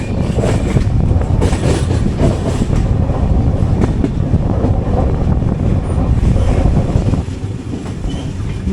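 The 12618 Mangala Lakshadweep Express runs steadily along the track near Karmali, with a loud, continuous rumble and rattle of rail cars and a faint clickety-clack throughout, easing slightly near the end.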